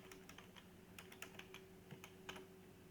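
Keys tap on a computer keyboard in short, uneven bursts of light clicks, faint and close, over a steady low hum.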